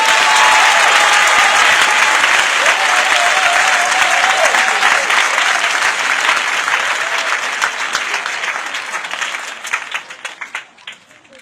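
A church congregation claps and cheers loudly in sustained applause, with voices calling out over it, the clapping gradually thinning and fading toward the end.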